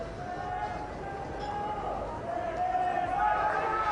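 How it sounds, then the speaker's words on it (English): Cricket crowd filling the ground at Kandy during a tense Sri Lanka versus Australia Test in 2004, a steady, distant hubbub of many voices and movement that swells slightly toward the end. "the crowd is pouring in"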